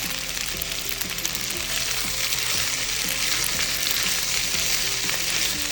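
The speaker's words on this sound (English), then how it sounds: "Pasta needs to fry a little bit, so we're going to add in another 2 tablespoons of olive oil." Pasta fries in olive oil in a pan, a close, steady bright sizzle and crackle, with faint low tonal background sounds running underneath throughout.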